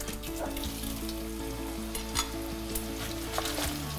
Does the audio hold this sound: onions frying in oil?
yes